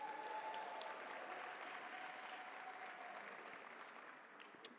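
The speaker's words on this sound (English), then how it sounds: "Let's give our choir a round of applause once again." Faint, steady applause from a conference audience for a choir, an even wash of many hands clapping that slowly tapers toward the end, with no voices over it.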